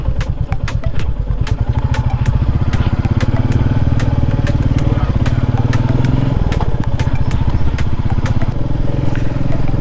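A motorcycle rides through a village on unpaved dirt and sand roads, its engine chugging loudly and steadily at close range with dense rhythmic firing pulses and clattering throughout.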